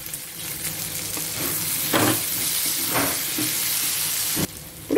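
Drumstick pieces fry and sizzle loudly in a hot pan, with a constant hiss broken by scraping stirs and bursts of louder crackle as they are turned.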